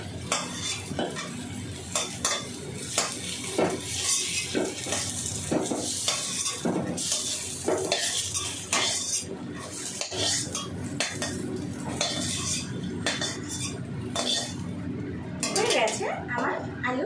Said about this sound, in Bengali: এবার আমি আলুগুলো তুলে নেব